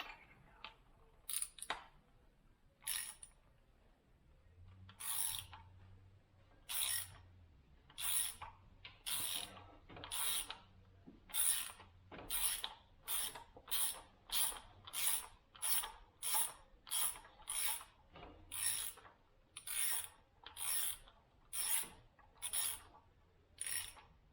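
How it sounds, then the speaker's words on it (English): A ratchet with a 5/8 inch spark plug socket on a 6-inch extension loosening spark plugs on a 2000 Acura 3.2 TL, a long run of quick, crisp clicking bursts repeating in a steady rhythm, close up and with no talk. "Let's get our 5/8 inch spark plug tool, 6-inch extension, and our ratchet, and get the spark plugs out."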